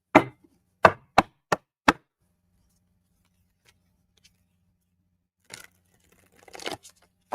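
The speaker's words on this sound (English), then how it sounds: "I'm going to shake these cards up just a little." Several quick crisp riffling bursts in a row, then a pause and a few softer rustles and snaps, as an oracle card deck is shuffled up close.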